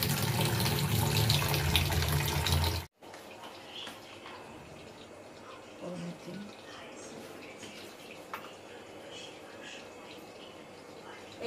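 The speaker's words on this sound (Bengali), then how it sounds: "মাছ এসেছে, দেখা যাক, ধুয়ে নি কাতলা" Kitchen tap water runs hard and loud for the first few seconds while catla fish is washed, then cuts off abruptly, leaving quiet room noise with faint clinks and splashes.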